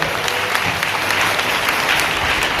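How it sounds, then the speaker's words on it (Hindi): A church congregation at a Hindi Christian sermon claps in praise, a loud, steady wash of many hands filling the whole stretch without pause. "ताली बजाकर प्रभु को महिमा।"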